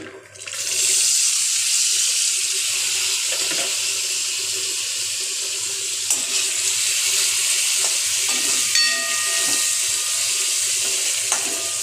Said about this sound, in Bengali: ছোলাগুলো ভাজা হতে থাকুক